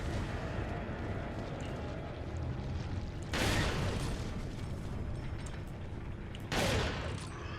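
Two heavy dynamite blasts in a video game (Resident Evil 4) go off a few seconds apart over a constant low rumbling background, each burst short and loud.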